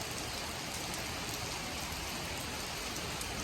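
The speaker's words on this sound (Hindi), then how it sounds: "देखो कितनी तेज़ बारिश आई है" Heavy rain pours steadily and loudly on a surface, an unbroken dense hiss with no pauses and no voices.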